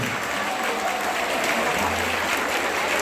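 An audience applauds at a Turkish folk music show, a dense, continuous clapping that fills the space evenly and stays loud from start to finish, with a faint voice underneath.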